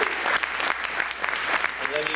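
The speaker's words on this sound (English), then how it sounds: "So give yourselves a big round of applause." Steady applause from an audience at a cannabis town hall meeting, a dense wash of clapping that fills the whole moment at moderate loudness.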